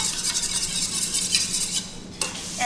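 A canola oil mixture stirred in a bowl, continuous scraping and swishing of a utensil against the sides at a steady pace, with one sharp clink near the end.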